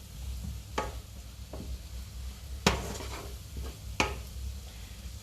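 Leeks fry gently in a pan under a low sizzle, with several sharp clinks and knocks of a utensil against the pan standing out at irregular moments.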